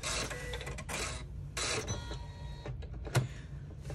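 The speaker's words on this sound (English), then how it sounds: "I'm gonna go ahead and start the satin stitching" An embroidery machine satin-stitches on vinyl for a clutch bag, its needle chattering in fast mechanical bursts that stop and restart several times, close and fairly loud with no talking.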